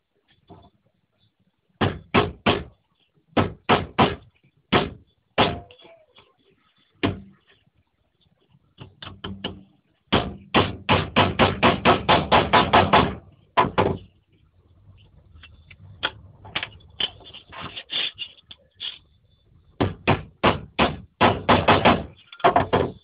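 A hammer drives a small nail into an iron door: loud, sharp metallic blows close by, in irregular groups of single strikes and fast runs of rapid taps with brief pauses between.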